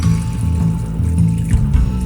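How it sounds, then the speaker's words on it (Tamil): Water is poured into a pot of chicken curry, a short, steady liquid splash and trickle heard close by, with no talk. "அந்த தண்ணியை இதில் சேர்த்துக்கோங்க."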